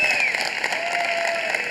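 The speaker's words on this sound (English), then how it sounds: "So why don't we give him a round of applause?" A crowd gives a brief burst of steady applause, heard up close and fairly loud for under two seconds.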